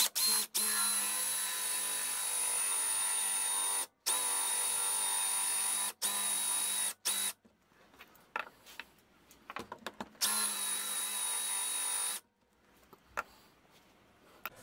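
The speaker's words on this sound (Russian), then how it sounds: "можно будет уже продолжить сверление диаметром 8 миллиметров" A power drill with an 8 mm bit bores through wood for a small Moxon bookbinding vise in long, loud, steady high whining runs, stopping briefly and restarting, then giving way to quieter clattering handling sounds near the end, close by with no talking.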